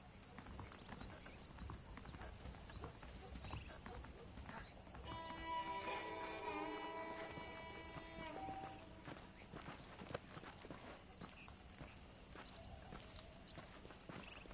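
Horse hooves in the video game Red Dead Redemption, a rhythmic clip-clop of a horse moving under game music and a brief whinny, with voices talking over it.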